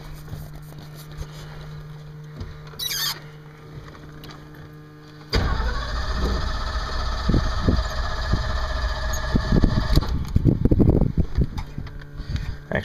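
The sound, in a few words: 1970 Ford Bronco engine starting and idling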